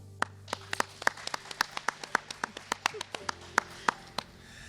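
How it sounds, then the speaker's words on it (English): Sparse, crisp claps from a few people at a secondary school graduation ceremony ring out one by one at an even, fairly quick pace over a low steady hum, with no voices. "let's give a round of applause to Mr. Baldanoa"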